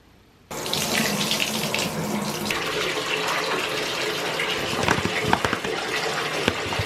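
Water gushes steadily from a tap into a bathtub being filled for an oatmeal bath, a continuous close splashing roar that starts abruptly after a moment of quiet.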